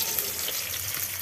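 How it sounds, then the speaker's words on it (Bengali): Eggs fry in a pan for a Bengali egg and potato curry, with a dense, steady sizzle heard close and alone. "ডিম তো ভাজা হোক"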